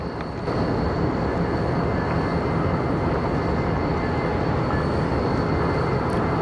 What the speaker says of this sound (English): a hump set, as seen here on the left, makes its way over to said receiving yard